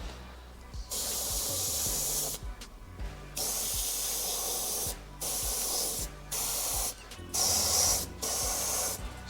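An airbrush sprays black paint over a texture template, close steady hissing in repeated bursts of a second or two, separated by brief pauses.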